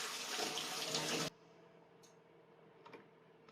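Tap water gushes into a sink while sea grapes are rinsed, a loud steady rush that cuts off abruptly, followed by faint clicks and drips in a quiet room.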